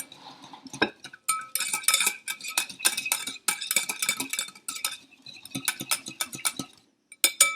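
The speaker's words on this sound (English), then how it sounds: "I'm gonna go ahead and whisk all the wet ingredients together" Wet ingredients for vegan applesauce muffins are whisked in a bowl, producing rapid, bright metallic clinking and scraping in uneven bursts, close and steady with short pauses.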